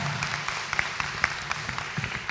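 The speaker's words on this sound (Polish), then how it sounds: "Wielkie brawa" Applause for a finalist's performance at a Polish talent show, a dense steady patter of clapping from the audience with a few sharper claps standing out, fairly even in level throughout.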